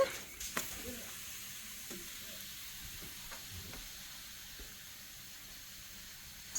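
Food browning in butter in a frying pan, a steady soft sizzle with occasional light stirring clicks, close and fairly quiet with no talking.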